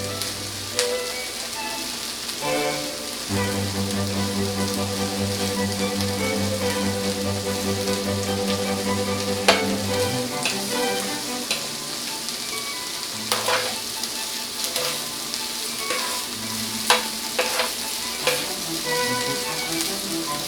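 Argentine red shrimp frying in a pan for a burrito, giving a steady close sizzle with clicks and scrapes as the pieces are turned, under faint background tones.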